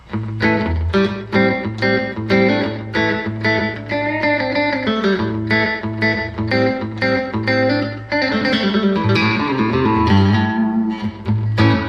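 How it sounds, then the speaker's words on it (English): An electric guitar runs through a Line 6 HX space echo effect, playing a steady rhythmic pattern of clean, repeating plucked notes with echo trails, loud and up close, with no talking. "I've got a space echo set up here, so I can do that"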